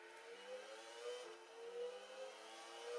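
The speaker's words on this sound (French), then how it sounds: "A noter le très bon son du moteur, en l'occurrence c'est le moteur Peugeot." A Peugeot Formula 1 engine in a racing video game, heard as a faint, steady high whine with gentle rises and falls in pitch, playing quietly on its own without talk.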